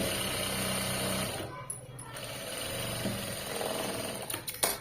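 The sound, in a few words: sewing machine stitching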